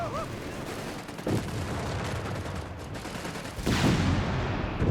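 Strafing-run gunfire in Company of Heroes 3 during a Wehrmacht versus USF match, a dense fusillade of shots and booms that swells louder near the end, with a commentator's voice over it.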